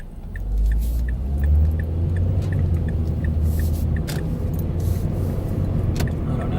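A car driving through heavy, busy traffic, with a steady low engine and road rumble close by and faint jingling over it, with no talk.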